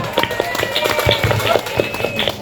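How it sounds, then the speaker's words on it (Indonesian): Applause from a church audience at a Bible quiz, a steady patter of claps close by and filling the whole moment. "Kita beri tepuk tangan untuk Ikhwan"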